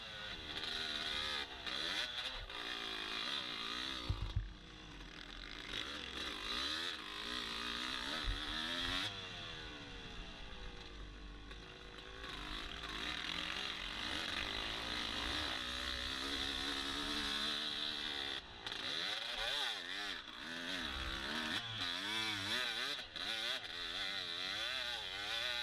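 Dirt motorcycle ridden hard at Byron Motosports Park motocross track, its engine revving high and sustained with repeated rises and falls in pitch as it climbs through RPMs, loud and continuous with wind noise throughout.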